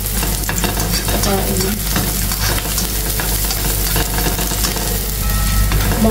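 Onion and garlic sautéing in a pan for a minced pork and potato dish, a steady loud sizzle with stirring scrapes running throughout, and a brief spoken word at one point.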